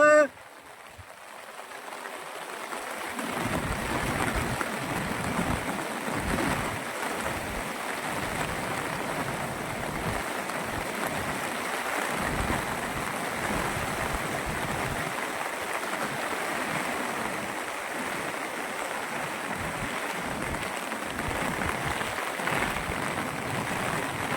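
Heavy monsoon rain pours steadily over a ghat hillside, a dense, continuous wash of falling water with flowing runoff beneath it, loud and unbroken throughout.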